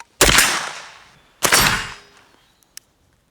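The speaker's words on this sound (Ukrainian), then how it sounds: "Знімаємо запобіжника і вогонь." Two loud single shots from a suppressed short-barrel APC9K submachine gun crack about a second apart, each trailing off in a long echoing tail, followed by faint clicks.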